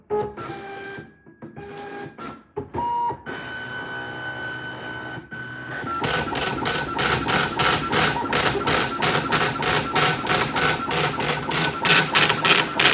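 A braille embosser prints a document after a few quieter mechanical whirs and beeps, then settles into a loud, rapid, evenly spaced hammering that continues steadily to the end.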